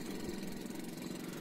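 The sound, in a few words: small diesel engine of a river boat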